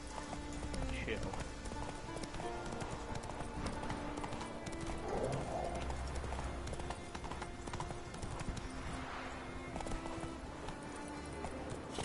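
Horse hooves clip-clop at a steady gait on Roach, Geralt's horse in The Witcher 3: Wild Hunt, with a brief whinny, under in-game ambience and a person talking.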